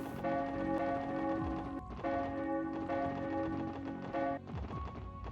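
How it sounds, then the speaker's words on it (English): A bell ringing in the video game Trails to Azure, with sustained metallic tones that recur in several struck swells over a dense layered background, fairly loud and with no talking. "We get to hear the bell ringing ASMR though."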